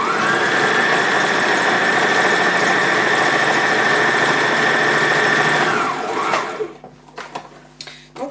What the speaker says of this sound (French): j'avance un petit peu dans la couture, ce qui me permet de faire le point d'arrêt